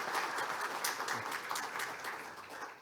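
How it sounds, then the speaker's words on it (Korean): Church congregation applauding during a Korean men's mission dedication worship service, a steady wash of many hands clapping at moderate distance with no voices over it. "박수로 부탁드리겠습니다."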